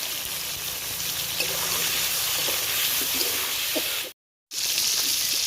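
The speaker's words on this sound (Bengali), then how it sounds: "অর্ধেকটা মাছ ভেজে নিচ্ছি।" Fish pieces frying in a pan, cooked outdoors on a rooftop in the evening, give a steady, dense sizzle throughout with a few small crackles and one brief cut to silence near the end.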